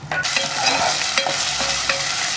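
Ginger garlic paste sizzles and spits steadily in hot oil with onions, with the occasional scrape of a spoon stirring through the pan.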